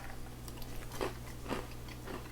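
Close, quiet bites into a crispy keto taco bowl give two or three sharp crunches about half a second apart, over a low steady hum with no talking.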